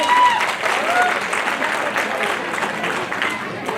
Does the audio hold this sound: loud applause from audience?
yes